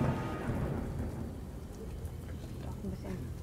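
Rumbling thunder and steady rain from the horror video game Castle of Secrets, a low, heavy roll under a constant hiss of rainfall, with a voice speaking faintly beneath.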